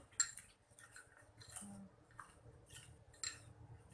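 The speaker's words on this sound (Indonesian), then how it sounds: "Kita aduk ya." A spoon stirs sand and water in a container, giving faint scraping and clinking strokes in an irregular rhythm over a quiet background.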